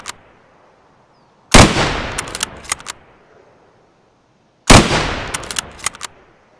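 Two sharp, loud SV98 sniper rifle shots in Escape from Tarkov, each followed by a ringing echo and a few bolt-action clicks, spaced about three seconds apart with near silence between.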